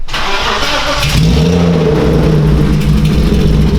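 A budget BMW drift car engine roars close and loud, catching and then revving up to a sustained, throaty drone with no one speaking.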